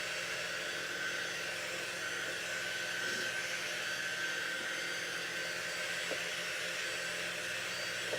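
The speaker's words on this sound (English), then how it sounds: "a blow dryer would work just fine. So let's dry this up." A blow dryer drying paint on a holiday craft project, running as a steady, continuous whoosh at moderate level throughout, with no speech.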